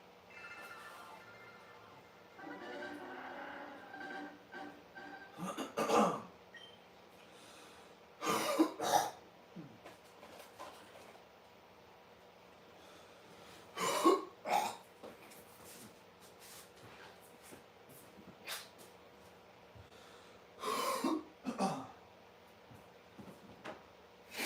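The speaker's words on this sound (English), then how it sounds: "I had to freaking clear my throat" Someone coughs and clears their throat in several separate harsh bursts spread across a quiet room, with pauses between each one.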